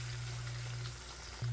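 Shrimp frying in hot oil for gambas al ajillo gives a steady, close sizzle over a low hum, with no talking.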